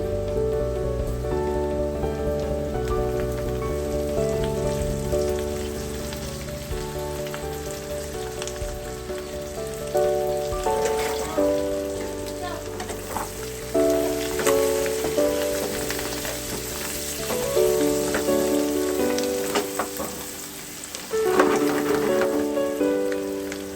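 Chicken fry with pounded spices and coriander leaves cooks in a pan, giving a steady, soft sizzling hiss that stays under loud, continuous background music for the whole stretch.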